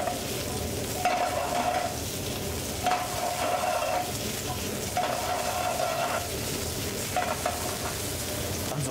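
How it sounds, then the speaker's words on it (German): Chanterelle mushrooms and onions fry over a very high flame in a pan, a steady loud sizzle broken by periodic stirring scrapes, with no talking. "Schön mit riesengroßer Flamme braten."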